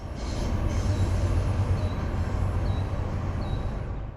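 A passenger train rolls steadily past close by as its rear cab car goes by, a loud continuous rumble of wheels on rail with faint intermittent wheel squeals above it.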